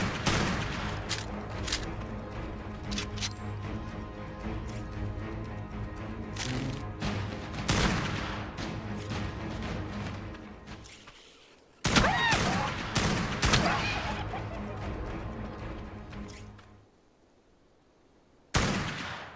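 Rapid bursts of gunfire from Ark Ascended, a fusillade of sharp repeated shots with short gaps, close and loud, stopping near the end before one final burst.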